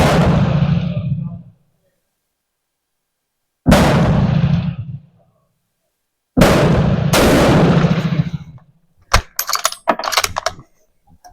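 An M47 Madsen rifle fires at targets: loud, close gunshots, one alone, another after a pause, then two in quicker succession, each ringing out briefly, followed by rapid metallic clicks of the bolt being worked.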